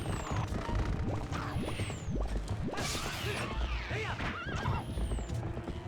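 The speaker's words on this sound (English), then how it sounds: "How dare they hit my horse?" Epona the horse in The Legend of Zelda: Twilight Princess whinnies loudly several times over clip-clopping hooves, with whooshes and crashing hits from game combat.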